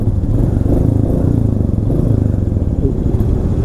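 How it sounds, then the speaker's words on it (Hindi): Motorcycle engines of a Royal Enfield Himalayan and a KTM Duke idle close by before a group ride, making a loud, steady low rumble with a throbbing pulse and no clear revs. "और भाई लोग ये इंजन स्टार्ट हो चुके हैं"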